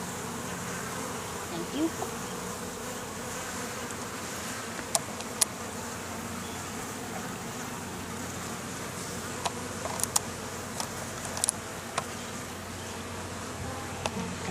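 Honeybees buzz steadily around an open hive during an inspection, a close, continuous drone with occasional sharp clicks and taps, and only a brief murmur of voice.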